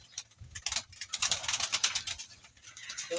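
Pigeons coo and shuffle inside a loft, soft repeated calls close by with rustling and patter across the whole stretch, no talking.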